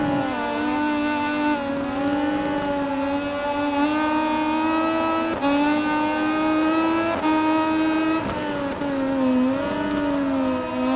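A Moto2 racing motorcycle engine in the MotoGP20 video game at Mugello, holding a steady high-pitched whine with rising revs and brief shifts in pitch, loud and continuous throughout with no talk.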